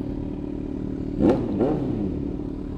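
A loud modified motorcycle with wide tires passes close by in a Tambike Bomba gathering in Sta. Barbara, Calasiao, giving two quick revving swells over steady background rumble.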